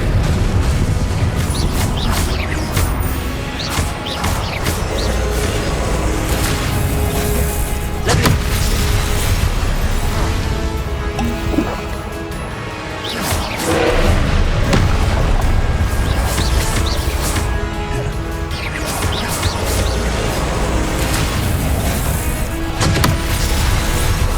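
Repeated Confringo blasting-curse explosions from the Hogwarts Legacy video game during a boss battle, loud booming bursts recurring over a dense, continuous bed of game music and combat noise.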